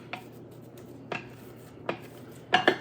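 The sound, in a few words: spoon scooping casserole in a dish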